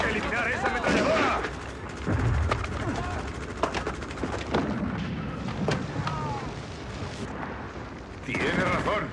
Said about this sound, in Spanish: ¡Tenemos que eliminar esa ametralladora!